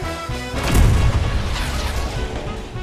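Junon's Mako Cannon fires in FF7 Rebirth, a single loud, deep boom that swells into a broad roaring blast and slowly rumbles away, heard alone.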